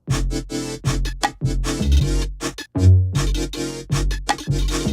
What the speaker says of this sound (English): I took my 808 and after making a new pattern, I high passed it a bit so it wasn't as powerful